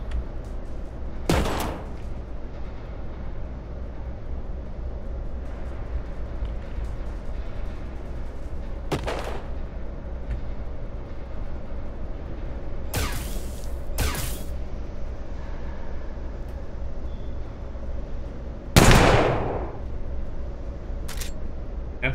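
Sci-fi gunfire in the RPG Colony Ship, a few isolated loud shots spaced seconds apart over a steady low hum, the strongest blast near the end.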